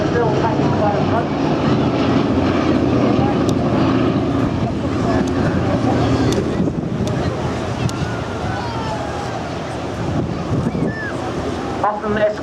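American bomber aircraft with its bomb bay open flying over the seafront at the Clacton-on-Sea air show in Essex, a sustained loud engine roar that swells and fades slightly, with a commentator talking over it.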